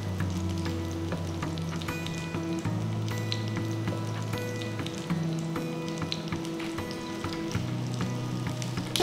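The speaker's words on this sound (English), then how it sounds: "flip to the other side and cook the fish for about 3 minutes" Spiced fish frying on a tawa, giving a continuous dense sizzle with crackling pops that runs steadily throughout, close and even in level, under a background music bed.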